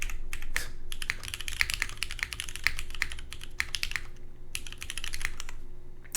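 Brisk bursts of close typing on an OC-62 mechanical keyboard with KKB keycaps, sharp clacks coming in uneven runs separated by short pauses, with no voices.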